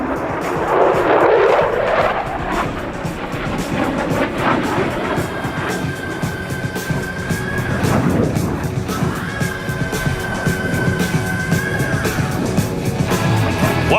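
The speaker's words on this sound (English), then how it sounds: "Coming in from the right, the F-35 performed the unique square loop." An F-35A Lightning II fighter jet roars through a square-loop pass at the Oregon International Airshow. A loud, continuous engine rumble and roar fills the air, swelling and shifting in pitch as the jet moves overhead.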